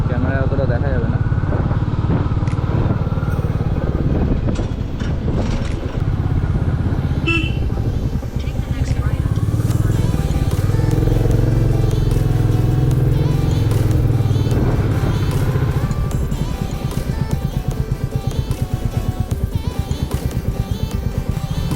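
Motorcycle engine on a ride near Mukutmanipur Dam, a steady loud drone running throughout with passing traffic and a brief horn toot, while people talk over it.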